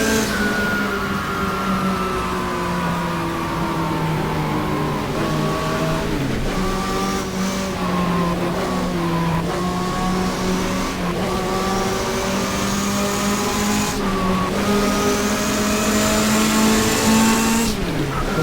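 A race car's V6 turbo engine in the GTR2 racing game, a 1987 WTCC touring car at Fuji Speedway, revs loud and continuous close by, rising through gears with repeated shift dips and throttle swells.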